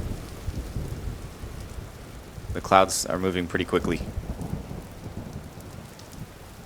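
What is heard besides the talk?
rain and thunderstorm in Vintage Story video game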